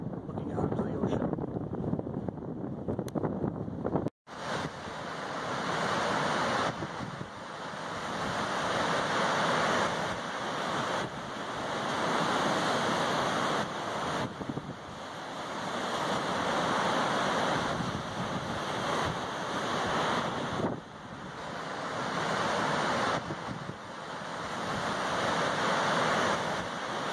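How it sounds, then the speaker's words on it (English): Ocean waves roll in steady surges on the Cape Cod shore at Hyannis, loud and close with gusting wind buffeting throughout. "A lot of waves action going on here."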